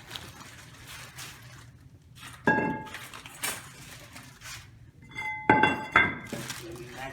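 A metal brake rotor for a 2012 Kia Optima is handled, giving bright clinks and ringing metallic knocks in a few separate bursts, close by against a quiet background.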